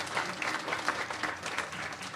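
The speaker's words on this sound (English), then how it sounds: "A round of applause." Audience at a live Q&A with Serj Tankian gives a round of applause, a steady, fairly faint patter of many hands clapping with no talk over it.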